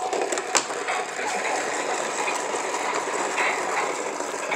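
A My Life toy washing machine whirs and clatters steadily with a mechanical, ratcheting rattle, running continuously and fairly close, with no talking.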